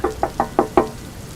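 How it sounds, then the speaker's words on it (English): Five sharp knocks on a door, evenly spaced and fairly loud and close, with a steady rain-like hiss underneath and no voices. "I heard someone tapping on the door again."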